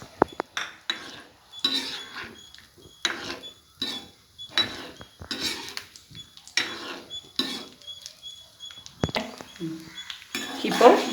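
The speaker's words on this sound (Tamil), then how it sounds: "அதில் இந்த முந்திரி பருப்பெல்லாம் போட்டு ஃப்ரை பண்ணி எடுத்துக்கலாம்" Cashew nuts stirred in a pan of oil while frying toward golden for rava laddu, giving repeated close scraping and clinking of a spoon against the metal pan in irregular bursts, with faint background sounds between strokes.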